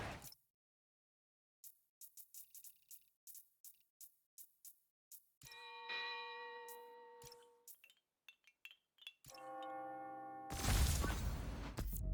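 A bell rings on the hour in the video game Spider-Man: Miles Morales. A run of short metallic clinks leads into a sustained, resonant ringing tone, then more quick chimes and a loud, noisy burst at the end.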